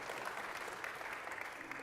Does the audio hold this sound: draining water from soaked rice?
no